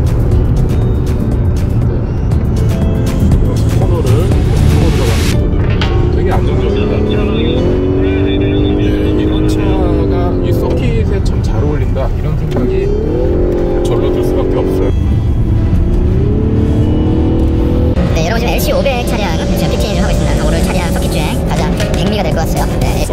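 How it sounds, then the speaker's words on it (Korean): A Lexus LS500h at full throttle on a race circuit, its engine note climbing in loud rising sweeps past about 150 km/h, with a person talking over the steady roar throughout. "일단 시속 150km로 풀 악셀을 지금 밟았어요"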